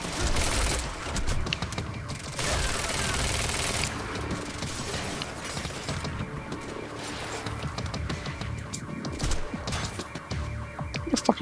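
Gunfire during a firefight in the game Quantum Break, dense crackling volleys and scattered sharp shots layered over a busy din of crashes and effects that runs throughout.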